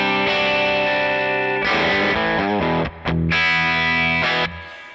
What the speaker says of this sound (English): That reverb that you're hearing, that's from the amp, and I have no pedals on.